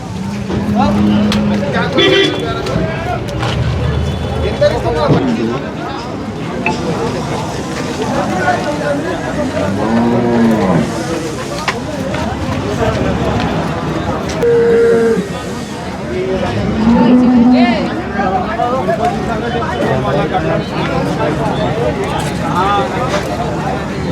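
Jaffarabadi buffaloes at the Erragadda cattle market give a few low moos amid a busy livestock crowd, with people talking steadily throughout.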